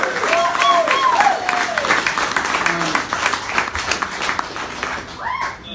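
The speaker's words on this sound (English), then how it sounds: "How about a round of applause for Chad?" Audience applause for Chad at a comedy roast: a room full of clapping and cheering, with shouts and whoops rising over the applause, tapering off toward the end.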